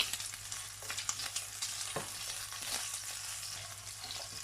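Pork belly pieces fry and sizzle steadily in a pan while ginger is added for a green bean and courgette stir fry, with a constant broadband hiss and occasional louder pops and spatters throughout, no talking.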